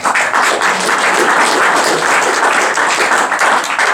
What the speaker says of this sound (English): That's the first time I've been applauded for doing what you're supposed to do.